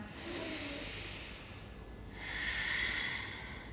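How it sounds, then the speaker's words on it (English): Ujjayi breathing during a yoga flow: two long, slow, hissing breaths, one inhale and one exhale, each swelling and fading, close and soft with no talk. "Breathe. Using Ujjayi breath."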